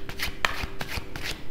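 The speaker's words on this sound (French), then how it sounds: "Je vais vous tirer une autre carte." Cards being shuffled and drawn from a tarot or oracle deck at close range, a quick series of crisp slapping and sliding flicks over about a second and a half, with no talking.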